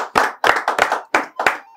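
A studio audience claps at a Yoruba-language TV game show, five quick bursts of applause in an uneven rhythm, loud and close, with no talking.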